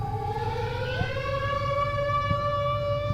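A wailing siren holds a steady, slowly rising tone, with a faint rhythmic rumble underneath.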